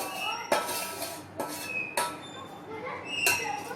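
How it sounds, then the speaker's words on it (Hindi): Sugar syrup is stirred into a besan barfi mixture in a metal pan, giving several sharp metallic clinks and scrapes of a spoon against the vessel at irregular intervals, fairly close and moderately loud. "इलायची पाउडर डालने के बाद मैं इसमें अब चाशनी को मिला दूंगी"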